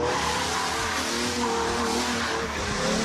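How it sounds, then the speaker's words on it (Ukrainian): Drift car at a charity drifting event in Dnipro, engine roaring loudly and continuously with squealing, skidding tires throughout. "Адреналін, швидкість, рев мотора це все про дрифт"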